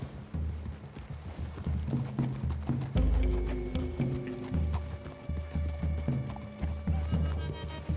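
Horses galloping in Red Dead Redemption 2, rapid rhythmic hoofbeats clattering close and loud throughout, with no talking.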